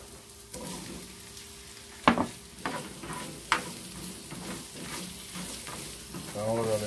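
Pork leg sautéing in a pan with freshly added tomato, a steady sizzle broken by scraping stirs and a few sharper clinks of utensil against the pan, close by with no talking.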